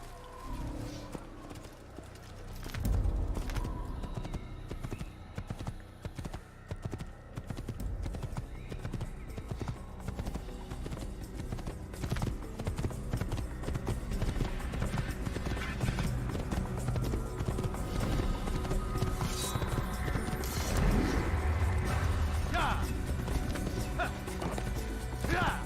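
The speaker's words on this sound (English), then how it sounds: "Like the white horse." Horse hooves clip-clop steadily in the Assassin's Creed video game, a continuous galloping rhythm heard up close with faint game sounds around it.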